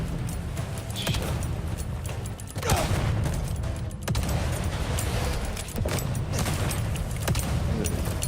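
Dense game combat from Vampire: The Masquerade - Bloodlines 2 keeps up almost nonstop, with loud grenade blasts and rattling gunfire layered into a continuous, heavy battle din.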